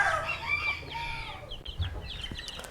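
Chicks peep with several overlapping high chirps, joined by clucking from older chickens and a brief crow-like call, close by in a farm setting.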